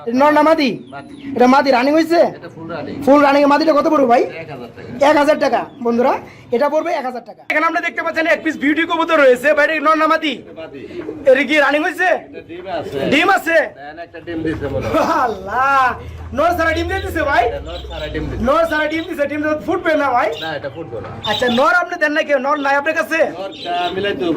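Fancy pigeons, including a laying female, coo repeatedly in bursts while someone talks over them at length nearby.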